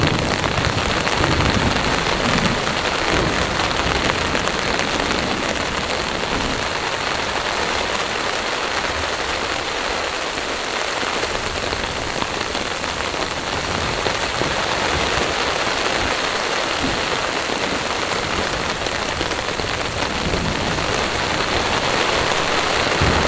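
Heavy rain pours nonstop onto a tarp shelter during a windy Colorado mountain storm, a dense, loud, close drumming and hiss that continues without a break and with no talking.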